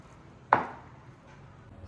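A single sharp crunch of pani puri shells being smashed, close and fairly loud, followed by a short fading tail and then quiet.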